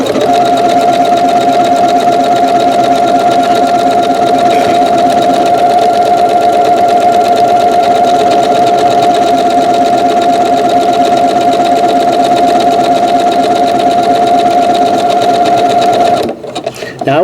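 A Janome sewing machine stitches a buttonhole with a steady, loud mechanical whir that runs unbroken for about sixteen seconds, then stops abruptly, leaving a few faint handling sounds.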